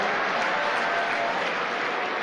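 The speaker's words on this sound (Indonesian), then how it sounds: "tepuk tangan buat yang udah lari dan balik lagi Bapak Ibu" Dense, steady clapping from a seated audience at a motivational talk in Indonesia, applauding participants who ran, continuous and close throughout.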